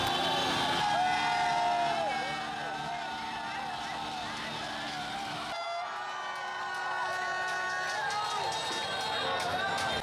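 Street crowds in Ho Chi Minh City celebrating a U23 Vietnam football victory, a dense, continuous roar of cheering with engine noise running throughout and a voice speaking over it.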